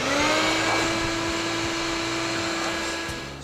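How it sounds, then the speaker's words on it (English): A vacuum cleaner runs inside a van under construction with a steady whine and low motor hum, loud and close, with small bumps and clicks as it moves. "Now, I'm gonna try and vacuum"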